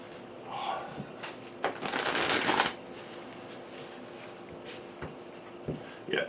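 Onirim playing cards being shuffled by hand, a dense riffling burst in the middle with lighter card handling and taps before and after, close and clear.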